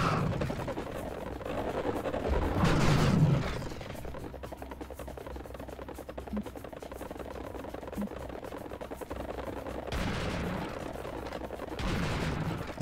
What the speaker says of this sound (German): Aber jetzt dafür schießen wir die unten mit den Granaten ab.